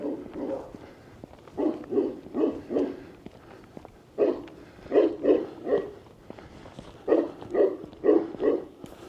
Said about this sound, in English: we can hear the dogs in the background